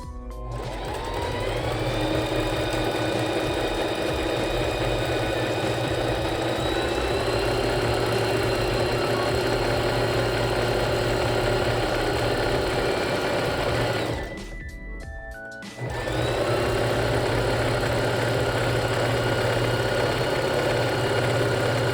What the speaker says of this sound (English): Then we sew in the belt.